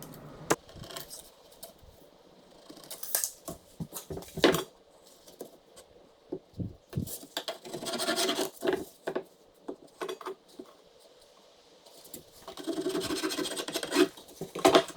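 Someone cuts a leftover piece of hardwood for a boot jack by hand. Rough, rasping strokes come in irregular bursts, broken by quiet pauses and a few sharp knocks.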